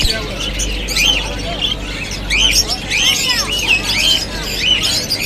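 Budgerigars and cockatiels at a bird market in Puthia, many chirps and squawks overlapping in a busy chorus up close, with people talking underneath.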